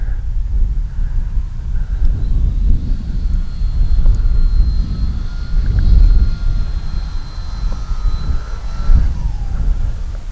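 FMS PA-18 Super Cub RC airplane flying outdoors in wind, a steady electric motor whine rising and falling in pitch as it passes, over continuous rumbling wind noise.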